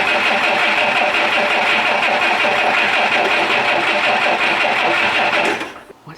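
A 1962 AMC Rambler engine, abandoned since 1975, runs on its fuel pump with a loud, steady, buzzing mechanical clatter close by, then cuts out abruptly near the end.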